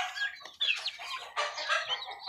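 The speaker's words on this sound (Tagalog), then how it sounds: "siyam pala yung ating napapisa na sisiw" Newly hatched turkey chicks peep in a rapid, high-pitched chorus of overlapping chirps, close and fairly loud, with no talking.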